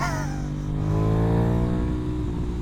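A modified motorcycle engine revving under aggressive on-off throttle, a loud, close, continuous drone with rising and shifting harmonics through the whole stretch.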